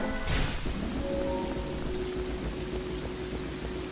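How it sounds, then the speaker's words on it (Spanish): Steady rain falling in the video game The Legend of Zelda: Twilight Princess, a dense continuous hiss with a brief louder swell near the start and a faint tonal game hum underneath. "Que vuelve a llover."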